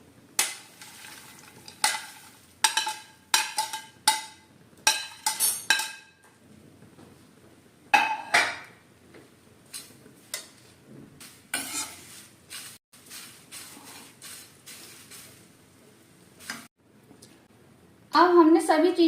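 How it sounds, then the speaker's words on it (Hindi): Namkeen mixture with peanuts roasting over a low flame, stirred in sharp repeated scrapes and clinks of a spoon against the pan, close and fairly loud, with quieter gaps between bursts and a soft sizzle beneath. "अब हम इसको लो फ्लेम पर धीरे धीरे भूनेंगे।"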